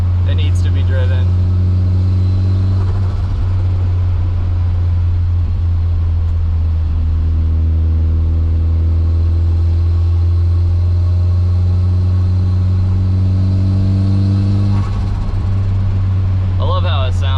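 A Toyota Aristo drives along with a loud, deep, steady engine drone and road rumble inside the cabin. The pitch shifts gently as it accelerates, and talk is heard over it at times.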